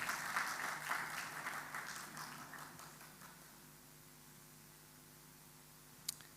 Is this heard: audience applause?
yes